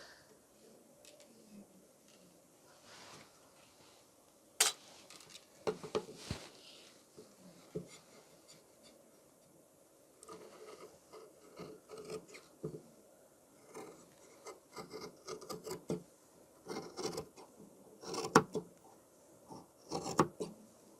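Scissors cut fabric for a bib in quiet, irregular snips and rustles, clustered more densely toward the end, with soft handling noises between the cuts.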